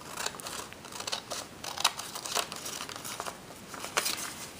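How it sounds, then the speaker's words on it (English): Scissors cut through paper for an at-home pop-up landscape craft, making a close series of crisp, irregular snips and crinkles with no voice over them. "I'm going to take my scissors"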